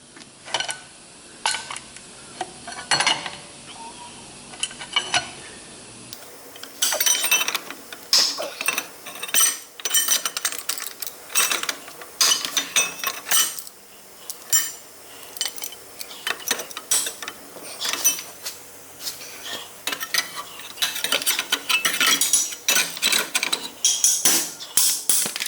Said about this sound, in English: Vice grips.